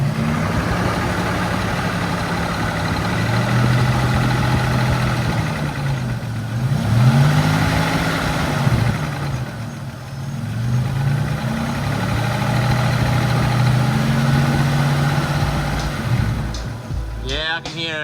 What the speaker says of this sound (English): Unfortunately, the engine has developed a bit of a noise